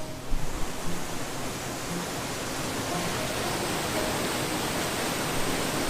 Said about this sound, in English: the creek is running through the sawmill